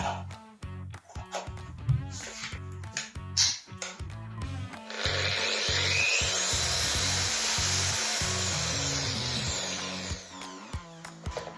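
A Tex.AC TA-01-440 power tool with a soft start winds up smoothly from clicks and handling noises to a steady, loud whine that holds for several seconds and then stops, with no talking.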